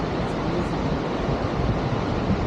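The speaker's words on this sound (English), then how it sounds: "Hey, it's windy." Strong wind buffeting the microphone at Unchahalli Falls, a steady loud rushing roar with no voices.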